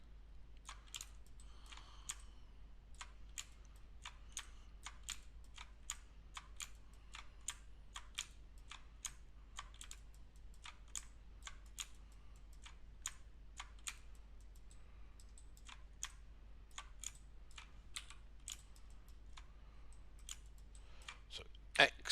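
Keyboard keys and mouse buttons click in quick, irregular bursts during 3D modelling in a computer program, crisp and close throughout with no voice heard.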